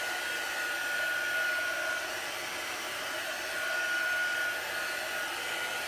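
A heat tool blows a loud, steady airy roar while heat-setting chalk paste on a canvas, running continuously and close with no talking.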